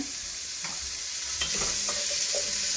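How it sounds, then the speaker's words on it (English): Mushrooms sizzle in hot olive oil, a steady hissing fry with a few soft stirring scrapes and light knocks from a utensil, close and even throughout, no voices. "So we're going to go ahead and put our mushrooms in."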